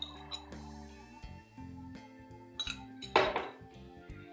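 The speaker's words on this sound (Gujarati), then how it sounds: "અહીંયા મેં પેન ગરમ કરવા મૂકી દીધું છે" A pan set on a home kitchen stove to heat for shallow-frying clanks and clinks against the burner grate, a few sharp metallic knocks with ringing tails, close and quiet otherwise.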